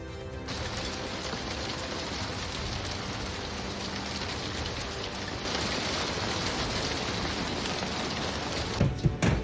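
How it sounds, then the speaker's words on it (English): Large hail pounds down during a thunderstorm in West Virginia, a dense, unbroken roar of impacts that holds steady throughout and swells slightly near the end, with a few sharper knocks. "It sounds like a battlefield as large hail pounds West Virginia, the repeated impacts sending chills through residents"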